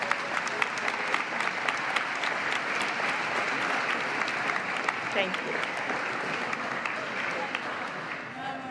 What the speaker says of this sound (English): give a hand of applause to each other